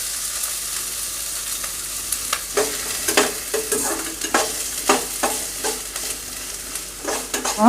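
Chopped onion frying in hot oil in a pan, a steady sizzle broken by repeated scraping and stirring clatters that grow busier toward the end, with no voices.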